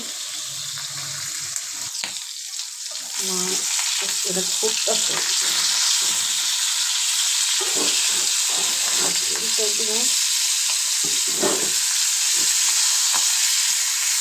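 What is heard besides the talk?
fish frying in a pan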